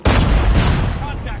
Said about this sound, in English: Enemy contact. Watch out. Flashbang.